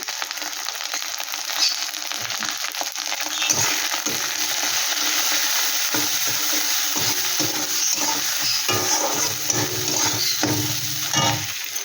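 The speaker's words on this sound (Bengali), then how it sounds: "জল দিয়ে মশলাটাকে ভালো করে একটু কষিয়ে নিচ্ছি" Ground spices with a splash of water sizzle and fry steadily in a pan for a Bengali prawn dish, stirred now and then with soft scraping and clinks, close and continuous with no voices.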